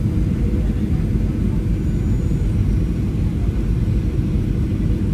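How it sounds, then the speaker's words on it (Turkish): Airliner taxiing to a stop after landing in Indonesia, heard from the cabin as a continuous low engine rumble and broadband roar at steady level, without clear talk. "Şimdi bu videoyu uçak tamamen durana kadar çekeceğim."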